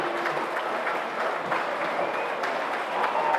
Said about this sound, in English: They've got a stand ovation.